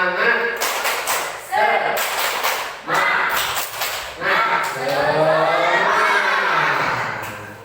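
A classroom group claps out a rhythmic spirit cheer, sharp bursts of hand claps and shouts in a loud chorus, with children's voices calling out over the beat.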